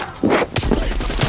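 Sniper rifle shots in Call of Duty: Black Ops Cold War, two or three sharp, loud cracks in quick succession with booming low thuds, close and dense.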